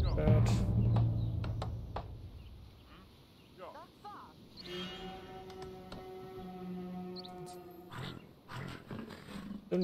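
Big cats roar in the strategy game Northgard, with a loud low growling roar at the start, then quieter in-game calls and tonal effects over ambient game sound, with brief speech nearby.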